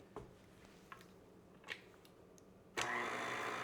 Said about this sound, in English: We're going to turn this on in our KitchenAid